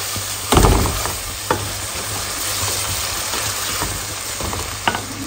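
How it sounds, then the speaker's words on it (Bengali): Drumstick dal sautéed in a pan with chili powder, turmeric and salt gives a steady, close sizzle of frying, broken by a few sharp clacks as the spoon stirs the pan. "একটু কষাই নিই"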